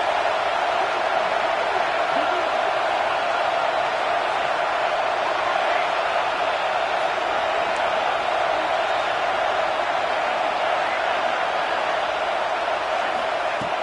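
Stadium crowd roar in the American football video game College Football 26 as fans get loud for a red zone defensive stand, a dense, constant wash of noise throughout.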